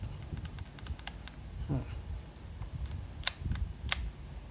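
A Yashica Electro 35 GL rangefinder's film advance is wound, giving a quick ratcheting run of small clicks amid faint ticks and handling noise in a quiet room.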